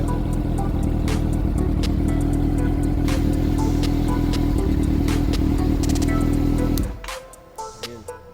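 A Honda CB400 motorcycle engine runs loud and steady at close range with a dense, clattering mechanical tone, then cuts off abruptly near the end, leaving faint handling noises.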